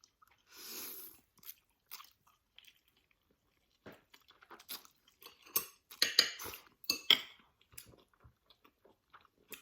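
Someone eats parsley pasta close by: metal cutlery clinks against a dish, followed by a string of soft bites and chewing sounds that come in irregular bursts, with no talking.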